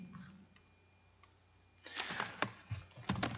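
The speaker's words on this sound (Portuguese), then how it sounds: "Eu vou digitar aqui porque é melhor" Keystrokes on a computer keyboard begin after a quiet stretch, quick irregular clicks close by, with a few louder taps and brief pauses between bursts and no voice over them.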